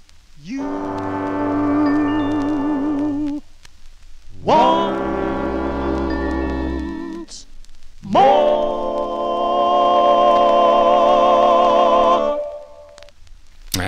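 A 1955 vinyl record plays three sustained vocal-harmony phrases separated by short pauses, clear and moderately loud.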